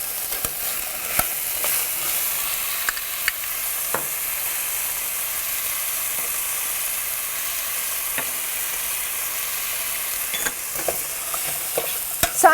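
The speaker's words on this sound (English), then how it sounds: "So I'm just going to stir all this together" Diced potato, spices and ginger are stirred in a hot pan, with a continuous sizzle broken by frequent sharp clicks and scrapes of the utensil against the pan, close and steady, with no voices.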